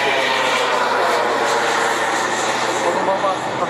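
A radio-controlled MiG-29 model jet with vectored thrust flies overhead, its engine a constant loud whine and roar that holds steady throughout without pause.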